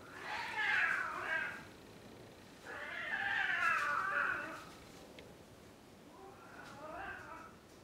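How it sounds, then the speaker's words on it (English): Cats fighting outdoors, yowling caterwauls in three drawn-out bursts with quieter gaps between, moderately close and heard alone. "cats outside fighting"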